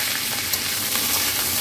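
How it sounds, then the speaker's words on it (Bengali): Cauliflower pieces shallow frying in hot oil give a steady, close, broadband sizzle that holds evenly throughout before cutting off abruptly at the end. "এবার আমি এই তেলেতে কপিটা একটু শ্যালো ফ্রাই করে নেব।"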